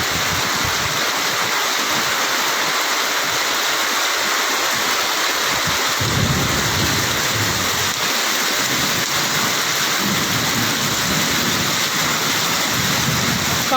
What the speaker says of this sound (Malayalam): എന്നാൽ ചൂടിനെ തണുപ്പിക്കാൻ വന്ന മഴയാണ്.